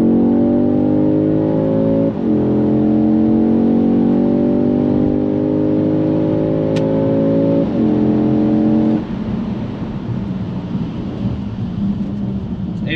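A 2022 Audi S3 engine revs hard on a Colorado mountain canyon road, loud and close, its pitch climbing through two upshifts before the throttle lifts and the note drops to a rougher, lower drone.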